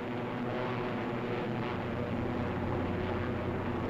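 WWII Thunderbolt fighter planes climb together in formation, their piston propeller engines making a steady, dense roar that holds at an even level throughout, with no voices.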